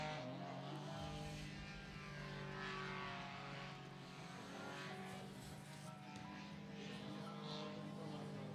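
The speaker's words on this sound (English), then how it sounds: "the inimitable sound of the Sky engine" A Sky paramotor engine flies a slalom course at the 2025 FAI World Paramotor Slalom Championships, giving a loud, steady, buzzing engine drone that holds throughout with only slight swells in pitch and volume.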